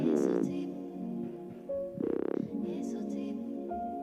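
A synthesized growl bass with a gritty, buzzing tone, its volume shaped by a bandpass filter, swells in short bursts alongside sustained tonal notes, played without any voice.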